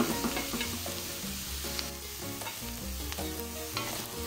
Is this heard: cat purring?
no